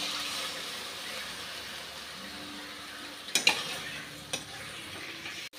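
Ground onion and ginger paste with green chilli and a mixed spice paste sizzle steadily in a pan for an egg curry, with a few sharp clinks of a spoon against the pan partway through.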